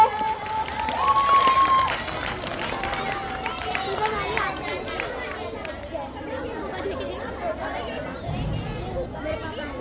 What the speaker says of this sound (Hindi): जोरदार तालियां हो जाए हिबा के लिए।